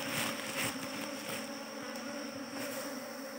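Bees buzz softly around a small wooden hive outdoors, a continuous low hum with no voices, steady and fairly faint throughout.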